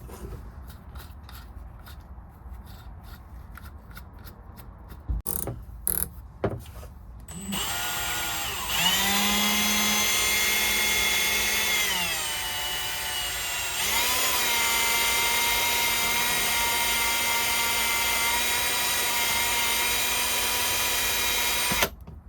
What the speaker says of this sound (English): Now to polish the inside here, this is a taper, so I'm going to go in the top of that taper.